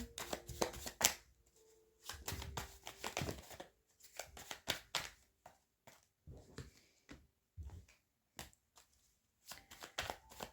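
Tarot cards are shuffled and drawn by hand in repeated bursts of close, crisp riffling and slapping, broken by short pauses, with no talking.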